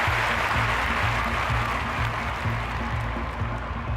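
Large Olympic stadium crowd at London 2012 before the women's high jump final, a steady roar of cheering and applause filling the air with a low rhythmic pulse underneath throughout.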